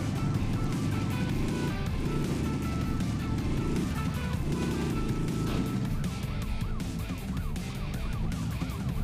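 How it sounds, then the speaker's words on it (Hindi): Car engine drone in the mobile game Smashy Road: Wanted 2, a steady loud hum running continuously with a police siren wailing alongside throughout. "एक नंबर आवाज दे रही है गाड़ी भाई"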